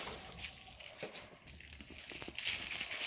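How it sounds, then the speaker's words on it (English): Dry, papery outer skin is crumpled and torn away from an amaryllis bulb by hand, a close, soft crinkling and crackling that grows louder toward the end. "we are just gonna break that flaky, papery stuff"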